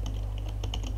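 Keys clatter on a computer keyboard in quick, uneven strokes over a steady low hum, a Linux terminal command being entered; the typing is close and continuous through the short moment.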